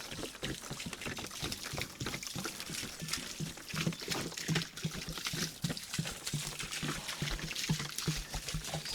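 Water poured into a building mix outdoors at a small house construction site, a faint, steady trickling and splashing that runs throughout without talk.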